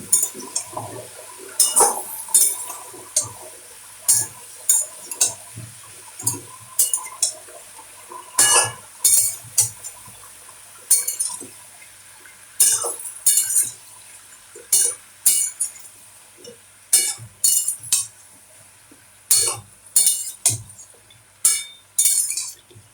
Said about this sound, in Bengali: এবার সবগুলো একসাথে মিক্স করবো, একটু ভেজে নেব।